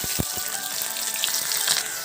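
Chopped onion added to cumin in hot oil for a chicken and greens curry sizzles and crackles steadily, close up, with a few soft knocks at the start.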